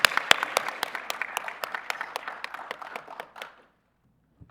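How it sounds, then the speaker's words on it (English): An audience at a professional career development workshop claps for the speakers, a lively round of applause with sharp individual claps that gradually thins out and stops, leaving near silence at the end. "Let's give a round of applause,"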